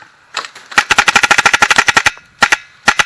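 Airsoft guns fire in an outdoor skirmish at a field called The Swamp, a loud close burst of rapid automatic shots followed by a few separate single shots.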